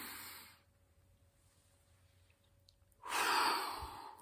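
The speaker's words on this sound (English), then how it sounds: "So you inhale with the nose" A deep, slow breath drawn in through the nose as a calming exercise for lowering blood pressure, heard as a soft airy sound at the start, a quiet gap, then a louder, fuller breath toward the end, close and alone.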